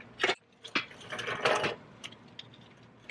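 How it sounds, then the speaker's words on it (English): A tie rod on a 2017 Silverado with lift control arms is tightened, giving close, quiet bursts of ratcheting clicks separated by short pauses. "hold the tie rod in while tightening it"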